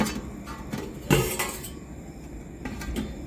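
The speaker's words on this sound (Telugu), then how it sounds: "ఇది ఇత్తడి గిన్నె కదా, మూత ఇలా మొత్తం చేసుకొని బయట కడుక్కొని పెట్టేసుకోవడమే" A brass pot and its lid clink and knock while being washed, with a few sharp metallic taps over a steady background hiss and running water.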